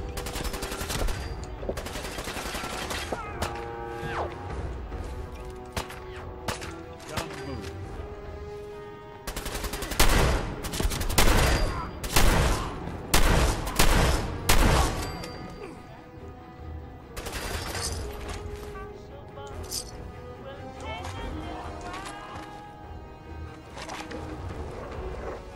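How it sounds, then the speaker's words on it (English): Gunfire rings out in Fallout 4, with scattered shots and several dense, loud bursts of rapid firing in the middle, mixed with in-game music and effects throughout. "Best shooting I've ever seen all day."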